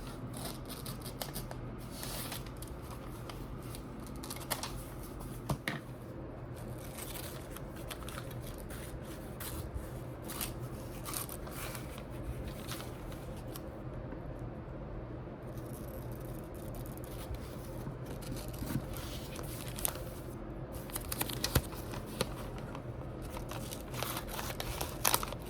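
Soft, repeated snips and paper rustling as wide scissors cut a coupon out of a sheet, irregular crisp clicks spread over a quiet background.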